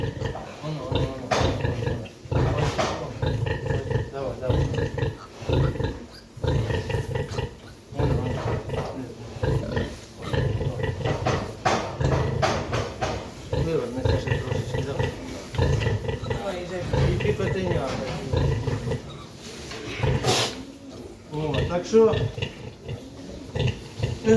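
A sow with newborn piglets a day after a difficult farrowing makes deep grunts amid squeals and snorts, loud and close, while someone talks over the animals.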